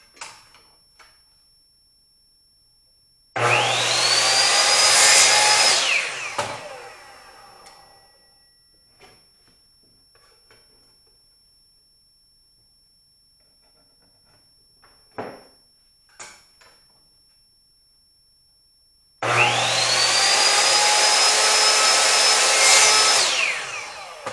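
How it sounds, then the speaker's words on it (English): Power sander running on a wooden magnetic knife holder, loud steady whirring in two long bursts with a quiet stretch of faint knocks and handling sounds between them. "I'm going to leave it a little bit long, sand it down."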